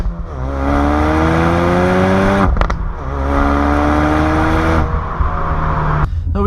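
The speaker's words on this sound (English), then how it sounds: "when you do put it in sport mode, you get some pops and cracks" A 2016 Ford Focus RS in sport mode revs loudly and close up, its rising engine tone broken by sharp exhaust cracks and pops between pulls.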